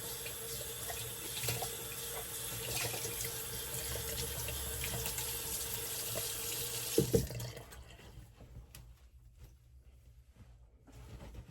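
Water runs steadily from a tap into a sink during a shave, a loud continuous splash for about seven seconds before the flow is shut off and only faint drips and small sounds remain.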